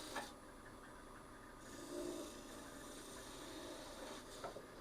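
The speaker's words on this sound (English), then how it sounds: "I've got the skew here, I think I'll probably go taper it down just a little bit" Skew chisel tapering a wooden pie server handle spinning on a lathe, a soft steady rubbing scrape that swells briefly midway, fairly faint and alone.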